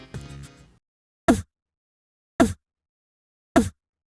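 Vocal snare on a Boss RC-505 MKII loop station, shaped with preamp and sustainer for a punchier, fuller hit: three sharp, evenly spaced strikes in clear silence, preceded by a short burst of voice.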